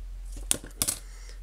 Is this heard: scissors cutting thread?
yes